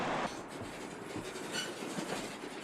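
A hydrogen-powered tram rolls along rails, a steady rumble of wheels with faint rhythmic clicks and a light squeal, moderately close and without speech.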